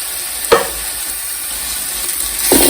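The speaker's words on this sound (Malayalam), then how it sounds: "അടുത്ത നമ്മൾ ഇഞ്ചിയും വെളുത്തുള്ളിയും ചതച്ചതാണ് അതിൻ്റെ കൂടെ ചേർക്കുന്നത്" Crushed ginger and garlic are stirred into a sizzling Idukki-style boti curry, with a steady fry hiss close by and two sharp spoon scrapes against the pan.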